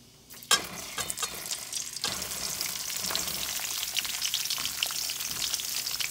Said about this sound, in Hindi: जीरा तड़क गया है, इस टाइम पे हम ये आलू गोभी डाल देंगे